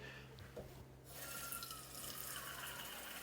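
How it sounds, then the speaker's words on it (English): Tap water running into a measuring cup for bread dough, a faint start, then a steady hissing stream that grows slightly fuller as the cup fills. "We're just going to take water right out of the tap."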